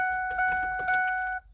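Key jangling as it is pulled from a car ignition while a steady electronic chime rings, the keys clinking in a few light bursts before the chime cuts off.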